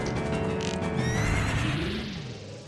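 Phantom Ganon's horse in Ocarina of Time lets out a loud, close whinny that rises and then falls away, with faint hoof clatter under it.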